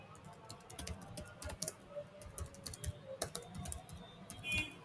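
Rapid, uneven keystrokes on a computer keyboard while code is being written, close and fairly quiet, continuing alone with no talk.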